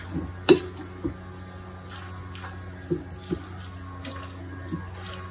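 Pasta is stirred into a pulled pork casserole in a bowl, giving soft wet squishes and a few sharp spoon knocks against the bowl at irregular intervals, close and fairly quiet.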